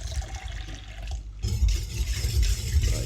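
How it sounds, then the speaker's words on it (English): Water pours steadily into a bowl of crumpet batter ingredients, a brief pause, then a fuller, louder stream splashing continuously. "I'm going to follow that by adding the water in as well"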